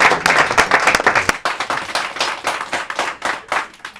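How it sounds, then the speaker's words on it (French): Diners at a dinner gathering in Chambéry give a round of brisk applause, a dense patter of many hands clapping close by, loud at first and thinning into scattered claps. "Applaudissements pour Mr."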